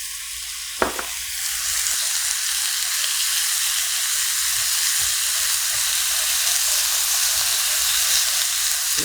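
Spicy Korean pork bulgogi stir-fries in a pan, giving a steady, moderately loud sizzle that runs the whole time, with a sharp clatter from a utensil near the start.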